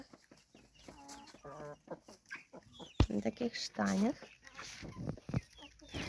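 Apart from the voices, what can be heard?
roosters and guinea fowl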